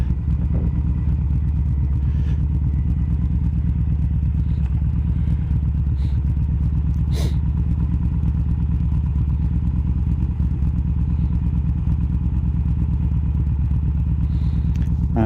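Motorbike cruising along a road near Norwich, a loud continuous engine drone with steady rumble and occasional faint knocks, heard from the rider's position with no speech.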